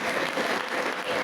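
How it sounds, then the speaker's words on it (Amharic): A church congregation applauds during a sermon, dense sustained clapping filling the space evenly from start to finish with no voices on top. "እስቲ አጨብጭቡ ለዚህ ጌታ ስሙ የተባረከ ይሁን"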